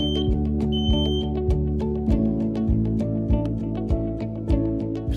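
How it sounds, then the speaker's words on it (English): Linked smoke alarms sounding together during a test in a steady, shrill, pulsing beep that repeats rapidly and stays loud throughout. "Press the test button on the control unit. Each linked alarm will sound"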